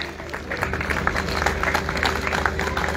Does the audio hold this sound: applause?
yes